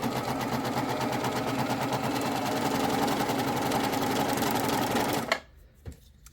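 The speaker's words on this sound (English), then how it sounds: "I would never just put my machine in cover stitch mode or any mode and just start sewing" Funlock B48 coverlock machine running a four-thread coverstitch: a loud, fast, steady mechanical whir for about five seconds, then a sudden stop followed by a couple of faint clicks.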